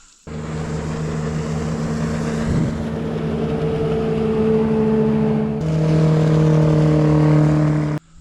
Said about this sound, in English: We've had a lot of boat traffic today.